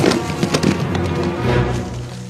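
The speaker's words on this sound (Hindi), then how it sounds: "पटाखे, पटाखे।" Firecrackers go off in an animated Peter Rabbit film, a dense crackling run of sharp pops and bangs spread across the scene amid background noise, fairly loud and continuous.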